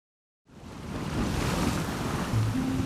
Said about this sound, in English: it's hammering down with rain